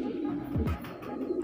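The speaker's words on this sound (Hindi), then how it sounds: "देख सकते हैं भाई इन कबूतरों को आप" Pigeons in a loft coo softly, a pair of low rolling coos standing out over a faint continuous hum of other birds, with no talking.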